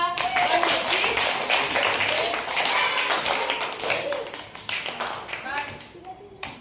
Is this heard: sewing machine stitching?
no